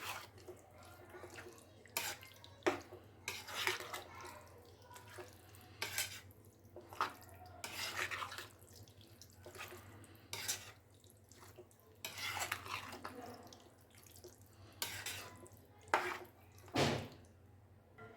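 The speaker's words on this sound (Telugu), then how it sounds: "గోంగూర వేస్తున్నాను. చూడండి గోంగూర వేసాను. ఇది మనం ఇలా కలుపుకోవాలి." Boiled gongura leaves are stirred into chicken pickle in a pot, with repeated wet scraping and squelching strokes in an uneven rhythm over a low steady hum, close and fairly quiet.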